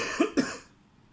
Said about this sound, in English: I have a bit of a cough.